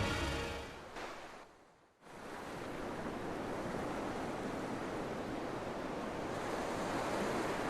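Ocean waves wash and surge steadily outside a seaside place of worship in the Tales of Berseria video game, a broad continuous roar of surf that dips briefly near the start and then holds loud to the end.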